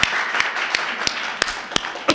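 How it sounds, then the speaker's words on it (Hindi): Steady rhythmic hand claps come from an audience at a Hindi poetry recital. They keep time roughly three per second as crisp, distinct strikes over a low hum of background noise, with no talking. "थोड़ा बहुत तालियां बजा दो, साथ सुनना चाहते हैं तो।"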